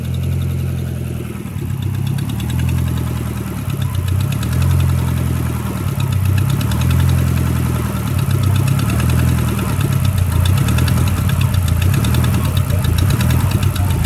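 A Hemi 5.7 V8 idles steadily with an exhaust leak, giving a loud, continuous low rumble with a ticking, knocking pulse running through it the whole time, with no talking.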